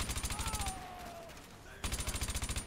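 F2000 rifle firing in Call of Duty Modern Warfare 2, two rapid automatic bursts with evenly spaced shots separated by a short pause, loud and close over quiet game ambience.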